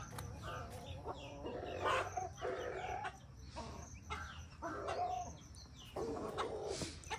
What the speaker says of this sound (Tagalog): May mga manok, nagpakain sila ng manok sa umaga.